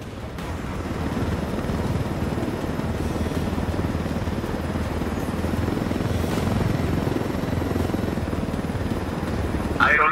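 A helicopter in the video game Ghost Recon Wildlands, its rotor and engine giving a loud, continuous whirring roar that stays close and steady throughout, with a brief sharper noise at the very end.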